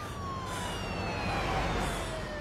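An ambulance siren wails along a city street, its slow rising and falling tone steady and moderately distant over a constant rumble of traffic.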